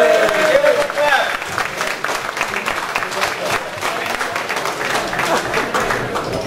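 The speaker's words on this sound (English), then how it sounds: "Give us a clap" Audience clapping at a school reunion gathering fills the room steadily, loud and close, with voices mixed into the crowd noise throughout.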